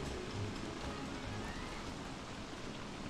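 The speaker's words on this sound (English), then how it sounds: "Why is the rain so bad?" Heavy rain pours steadily in the survival game Don't Starve: Reign of Giants, a dense, unbroken hiss of falling water at moderate level with no voices over it.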